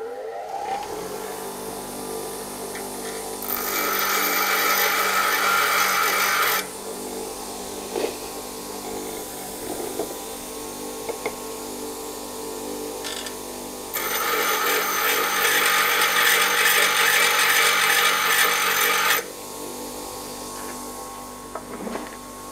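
Grinding wheel being touched up in a workshop while making a lathe chamfer tool, with two loud bursts of harsh abrasive grinding separated by a quieter stretch of steady motor hum from the running machine.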